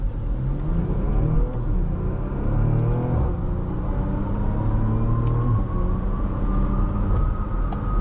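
A 2016 Porsche Macan Turbo accelerating hard from the cabin, its engine note climbing through quick PDK gear shifts, each change dropping the pitch before it rises again under a steady road rumble.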